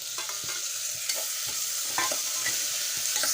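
Tomato and onion frying in oil in a pan for a simple pulao, a steady bright sizzle with repeated scraping stirs of a spoon at an uneven rhythm, close up and without any voices.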